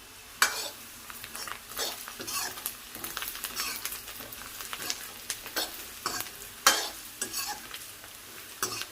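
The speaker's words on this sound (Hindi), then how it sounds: "तो ये प्याज अच्छे से फ्राई हो गई है" Onions fry with salt, chilli, coriander and other spices in a pan. Bursts of crackling sizzle come and go as the mixture is stirred, with occasional scrapes of a spoon against metal and no talking.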